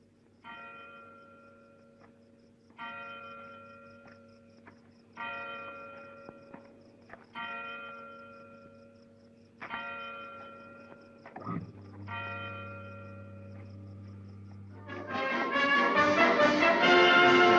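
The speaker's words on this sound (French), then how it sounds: "Entendre sonner les cloches de Big Ben, la célèbre horloge de Londres." The Big Ben clock bells in London ring out in a slow series of resonant tolls, each chime sustained and decaying, followed by a denser, louder burst of overlapping bell peals at the end.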